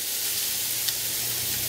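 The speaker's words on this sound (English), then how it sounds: "And we just want to saute the onions until they start to turn translucent." Finely chopped onion sautés in a hot pan, giving a steady, close sizzling hiss that runs evenly with no one talking.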